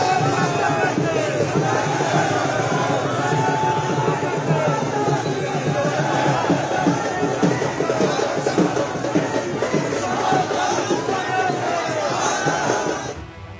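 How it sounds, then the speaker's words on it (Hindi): A large crowd gathers for J.P. Nadda's road show in Solan, Himachal Pradesh, on a cold day: a dense, continuous roar of many voices shouting and cheering at close range, steady throughout. "सर्दी के बावजूद लोगों की जबरदस्त भीड़ जुटी थी"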